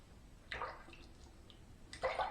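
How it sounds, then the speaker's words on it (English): A Henson razor is rinsed under running water in two short bursts of splashing, quiet and close, with a pause of near silence between them. "I'm rinsing because of force of habit"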